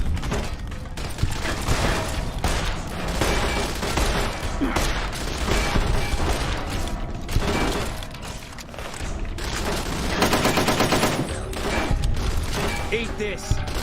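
Turret gunfire in the video game Fallout New Vegas, rapid repeated shots and booming impacts in dense bursts over game music and effects, with someone talking over the action.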